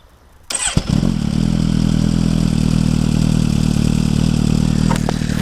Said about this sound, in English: might as well let you hear start up.